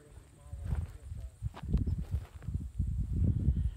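Wild horses walk over ground on a hillside in Dingo, Harlan County, Kentucky, their hooves giving soft, uneven clip-clopping thuds near the listener while a person talks over them.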